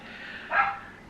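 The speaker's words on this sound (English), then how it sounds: "She's so gobby, that dog." A single short bark from a dog named Heidi, moderately close, over quiet room tone.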